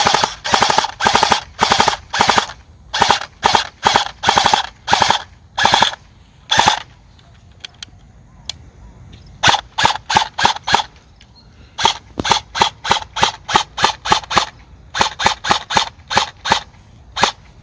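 Custom E&L AK-74MN Platinum airsoft rifle firing in rapid full-auto bursts, loud and close, with short pauses between strings of shots and a longer gap midway before firing resumes.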